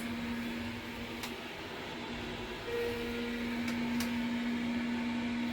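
A Schindler S Series hydraulic elevator rated for 630 kg and 8 persons travels between floors, giving a low steady hum with a faint pump tone and a few soft clicks.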